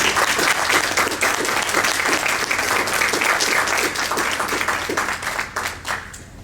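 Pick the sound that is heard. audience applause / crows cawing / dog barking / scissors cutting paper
audience applause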